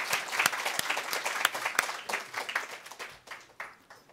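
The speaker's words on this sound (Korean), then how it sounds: "하나님께 영광의 박수 올려드리겠습니다" A church congregation claps together in applause during a morning worship service, a dense patter of many hands that swells and then thins out and fades toward the end, with no voices over it.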